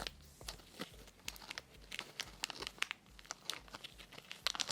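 Soft plastic crinkling and crackling in irregular bursts as a homemade fidget toy is squeezed and worked in the hands, close and fairly quiet, with no talking.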